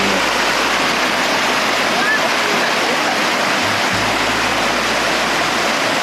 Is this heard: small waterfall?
yes